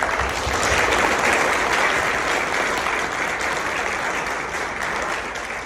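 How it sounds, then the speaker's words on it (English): A full round of applause from a seminar audience honoring city hall, dense and even throughout, slowly tapering toward the end. "So we could do just a quick round of applause for our city hall."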